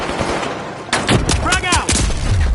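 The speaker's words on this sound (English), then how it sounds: "Throwing the frag!" A frag grenade explodes in the video game The Finals, a loud booming blast with rumbling, crackling debris, heard over gunfire and under a speaking voice.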